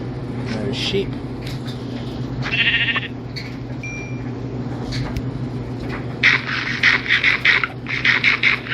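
Sheep in the video game Minecraft bleat in several short pulsing calls, most of them clustered toward the end, over steady game background sound.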